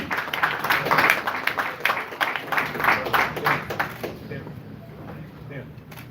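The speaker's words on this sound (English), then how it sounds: "A round of applause" Audience applause at a boxing press conference after a fight, a steady round of clapping from a room of people that fades out toward the end, with voices underneath.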